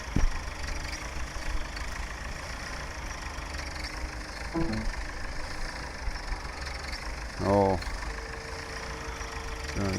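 A tractor engine idles steadily in Farming Simulator 17 on a 1960s-era farm during potato harvest, a continuous low rumble with brief mechanical tones and clicks over it.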